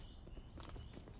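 Faint footsteps in the Call of Duty: Black Ops video game, a quick run of soft, evenly spaced steps lasting about a second against low background game noise.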